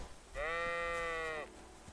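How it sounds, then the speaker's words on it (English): A sheep in the medieval video game Kingdom Come: Deliverance 2 gives a single drawn-out, wavering bleat, close and loud, lasting about a second against soft ambient noise. "That is a sheep."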